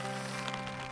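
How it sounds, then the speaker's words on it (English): Steady rain pattering on a riverbank of the Hampshire Avon in June during a fishing session, a dense continuous hiss close by with a low steady hum beneath it, no voices. "You can probably hear it's raining quite a bit."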